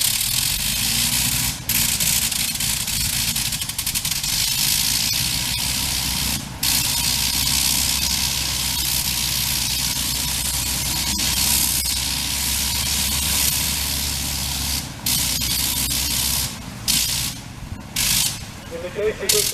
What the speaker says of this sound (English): In the case of this rotary, it runs full on or full off, using a blink switch at the top of the control tower.